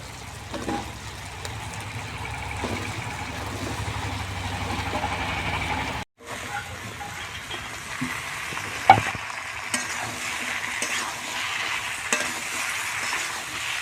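Taro stolons (kochur loti) stir-frying in a pan, a continuous sizzle with repeated scraping stirs, a brief gap midway, then steady frying with occasional spatula knocks, no voices.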